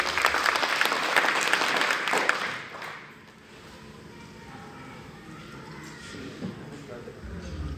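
Audience clapping with both hands raised at a Hindi poetry recitation, a dense loud burst that drops after a few seconds to a softer, scattered patter with murmuring voices underneath.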